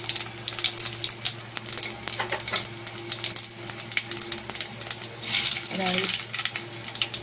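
Cumin seeds sizzle and crackle in hot oil with garlic in a pan while cooking semala mirch masala bhaji, a steady frying hiss throughout with a brief stirring or splash burst near the end.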